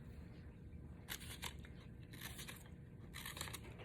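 Scissors snip partway into paper strips for a 3D line sculpture, producing three short bursts of crisp, faint cutting crunches against quiet background hiss.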